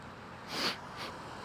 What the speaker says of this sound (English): Sniffling already.